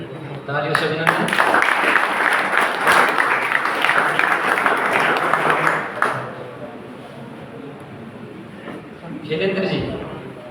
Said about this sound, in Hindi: तालियों से अभिनंदन।